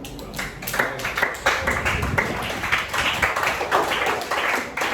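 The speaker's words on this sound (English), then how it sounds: "Clap for her. Clap." Students in an in-person class clap for a classmate, a smallish group's uneven, fairly close hand claps with irregular rhythm and audible individual smacks, running for several seconds.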